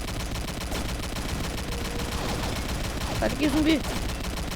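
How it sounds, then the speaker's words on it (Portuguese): Video game gunfire in Combat Arms, quarantine mode: a steady, dense stream of rapid shots at moderate volume continues throughout, while a player talks over it. "agora já pode atirar"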